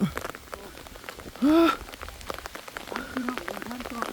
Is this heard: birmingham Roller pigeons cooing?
no